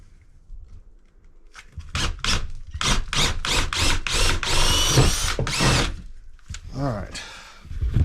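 A power drill bores a hole up through the roof of an off-grid house in Alaska, whining in several short bursts that stop and restart, close and loud, with a faint voice between bursts.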